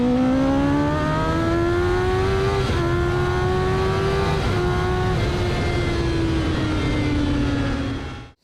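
A car screaming flat out along the Brands Hatch race track, its engine note climbing through gears in long rising sweeps, loud and close, before cutting off abruptly at the end.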